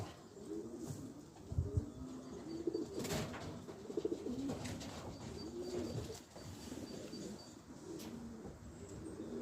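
Pigeons coo nearby in soft, repeated throaty phrases, several overlapping calls with occasional chirps and light rustling in a quiet setting.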